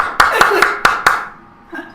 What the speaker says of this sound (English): Let's have a quick round of applause for Rocker for having her actual character,